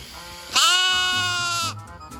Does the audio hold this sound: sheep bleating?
yes